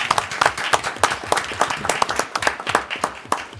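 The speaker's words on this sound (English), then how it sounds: "good round of applause for that." A room full of people at a city council meeting claps steadily, the dense patter of many hands continuing throughout at moderate loudness.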